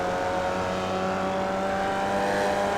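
Formula Vee race car in the iRacing video game at Virginia International Raceway, its engine holding a steady, loud droning note at constant throttle with no talk over it.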